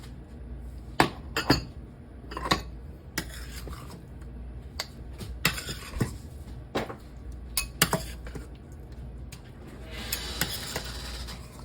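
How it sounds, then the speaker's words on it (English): Metal spoon scraping and clinking against a pot and plate while serving tomato soup rotini pasta, sharp irregular clanks and taps spread across the moment with quiet scraping between them. "All right, the pasta is done, so I'm gonna scoop some of this up."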